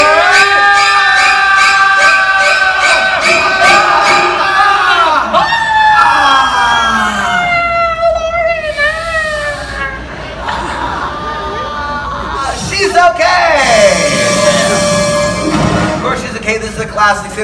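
An audience at a Universal Studios Hollywood special effects show screams together on cue, a loud, sustained crowd of overlapping shrieks and cries with a second swell of screaming near the end.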